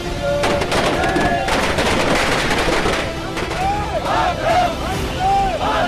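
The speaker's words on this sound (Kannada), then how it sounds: "ಪಟಾಕಿ ಸಿಡಿಸಿದ್ರು." Firecrackers crackle in dense rapid bursts at a street celebration in Bagalkot, then give way to rising whistling shots, all loud and close over the babble of a crowd.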